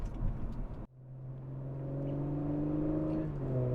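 Engine of a 2021 Audi S4 in its sportiest dynamic drive mode pulls hard under acceleration, a steady rising drone that climbs in pitch and loudness after a brief pause, heard from inside the car with no talking.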